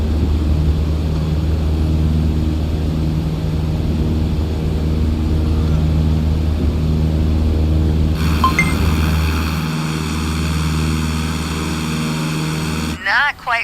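Light aircraft in a flight training video game rolls along the taxiway toward the runway, a steady low propeller-engine drone running throughout, with a brief clink and a sharp burst of sound near the end.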